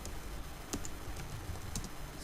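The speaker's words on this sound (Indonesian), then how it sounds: "lalu ketikkan nama file" Someone types on a computer keyboard, entering a file name in a command line. The key taps are faint and scattered, with a few sharper clicks standing out from steady background hiss.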